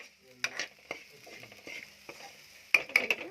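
A spoon scrapes and taps against a pan while food is stirred and mixed, quiet clinks and scraping strokes scattered over a few seconds with a soft sizzle beneath.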